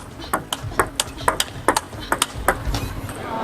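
A table tennis ball in a professional women's match between Sun Yingsha and Miu Hirano clicks off bats and table in a quick rally, one stroke clipping the net, sharp pings repeating roughly every quarter second.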